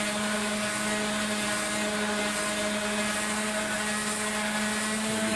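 Wooden drum staves for a stave-shell drum being sanded with sandpaper, progressing from 100 to 220 grit, giving a steady, continuous motorized whine with a droning hum throughout, fairly loud and with no talking.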